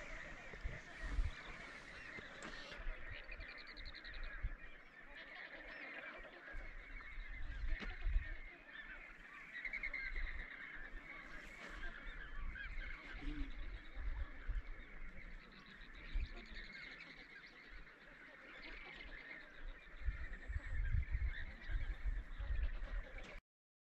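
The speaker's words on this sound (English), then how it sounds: "this is my first stop at this lagoon with hundreds of pink flamingos" Hundreds of pink flamingos call at a high-altitude lagoon in Bolivia's salt flat region, a faint, distant chorus of goose-like honks that overlap continuously over open-air background noise.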